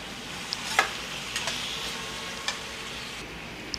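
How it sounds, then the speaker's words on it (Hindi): Chopped green chillies fry in a pan and sizzle softly and steadily while a spoon stirs them. Brief light taps and clinks sound against the pan, and no one talks. "अभी इसे थोड़ा चला लेते हैं"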